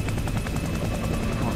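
Helicopter rotor thumps beat rapidly and loudly throughout a tense action scene from a Mission Impossible film, a dense continuous chop with a steady whine above it.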